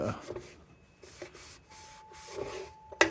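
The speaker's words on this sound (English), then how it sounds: "I'm just gonna wipe this down with acetone" Cloth wiped with acetone across a metal lantern part makes short, close rubbing strokes, with soft pauses between them and a brief sharp knock at the end.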